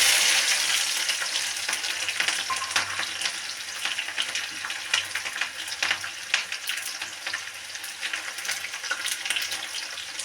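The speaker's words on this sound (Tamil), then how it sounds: "சின்ன வெங்காயம் நல்லா வதங்கட்டும்" Small shallots, sliced lengthwise, sizzle and fry steadily in oil in a pan for a Tamil fish curry, with a continuous crackling hiss and occasional stirring, close and without talk.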